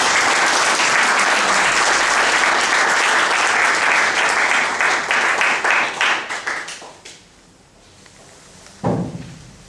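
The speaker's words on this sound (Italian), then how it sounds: "passo la parola a Domenico, che salutiamo con un applauso." A lecture audience in Ancona applauds loudly and steadily, the clapping thinning into a few scattered claps before fading out, followed by a brief thump.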